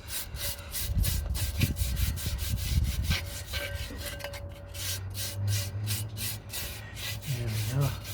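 Junk and rust are rubbed off a Land Rover brake drum in close, rapid scraping strokes that continue steadily, with a faint low hum underneath.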